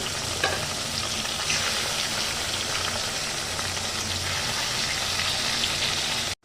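Puti fish sizzling and frying in oil in a wok, a steady close crackle and hiss that runs without a break and stops abruptly at the end.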